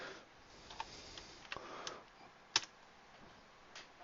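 Quiet, sparse keystrokes on a computer keyboard while a short word is entered during a beginner iClone 5 tutorial, a few scattered clicks spread over several seconds with one sharper tap standing out.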